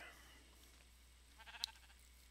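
A sheep in the video game Minecraft gives a single short, faint bleat near the end, over a quiet background hum.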